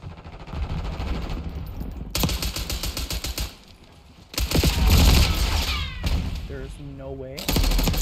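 Video game gunfire: bursts of rapid automatic shots with loud impacts and a short lull, under a player's speech.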